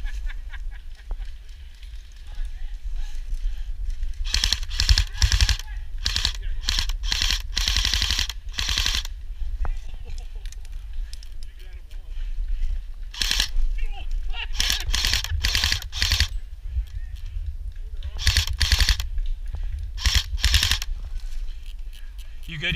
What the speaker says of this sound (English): They're all shooting at me and getting you.